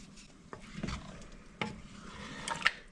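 Spicy seafood linguine sauce simmers and sizzles in a pan on medium-high heat, a soft, steady bubbling hiss broken by a few scraping stirs and light clinks, close and fairly quiet with no talk.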